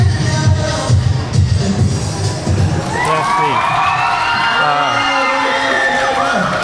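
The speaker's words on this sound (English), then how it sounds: "There's music and a crowd" A crowd of mostly young girls at an afternoon event in a shopping plaza cheers and shrieks loudly, then high excited screams rise and swell over the din, with a brief spoken remark in the mix.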